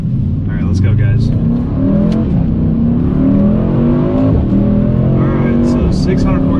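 A 2021 Mercedes E63s AMG wagon with a twin-turbo V8 pulls hard in a steady, loud rising roar with turbo whoosh, heard from inside the cabin while a person talks over it.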